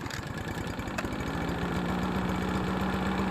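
A Toro Recycler 22-inch lawn mower engine, just after camshaft retiming, runs steadily at close range with a rapid, even chugging idle and no voices.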